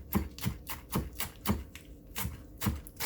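A knife chopping through rolled lettuce on a board, a steady series of crisp close thuds and crunches, about three per second, with no talking.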